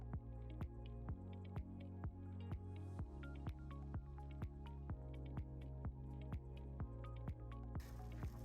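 A water bottle is filled at an aid station during the Lean Horse 100-mile ultramarathon, giving a steady run of rhythmic glugging, dripping pulses, close and fairly quiet, with no talking.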